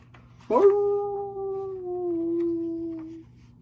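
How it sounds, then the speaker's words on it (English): A single long, mournful dog howl rises suddenly, then holds a steady wavering pitch for a few seconds before fading out, clear against a quiet background. "He sat down and howled."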